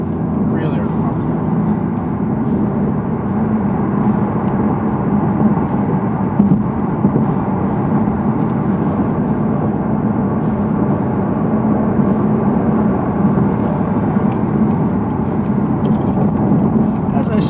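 A 2014 Chevrolet Corvette Stingray with magnetic ride suspension cruises smoothly down the road, a steady low engine and road drone under continuous nearby talk.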